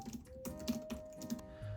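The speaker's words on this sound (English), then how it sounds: "it does type really nicely, and it's similar to the wireless keyboards from the late 2000s" Fingers type on an older laptop keyboard in quick irregular bursts of soft, close key clicks with brief pauses, over a faint steady electronic hum.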